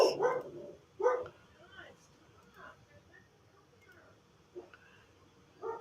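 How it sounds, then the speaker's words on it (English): Dogs bark in a few separate bursts, some sharp and loud, others softer and farther off, with long quiet gaps between them and faint talk in the background. "Dogs."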